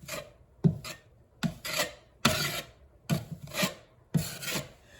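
A wide spatula drags drywall compound across a patched hole in a wall, giving six rasping, scraping strokes in a steady rhythm, close and alone.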